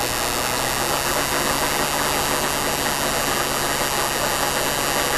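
A race car engine idles at a held-up rate in a Petty racing experience setting, giving a dense, steady rumble with hissing noise that stays constant and loud for the whole stretch, with no talk.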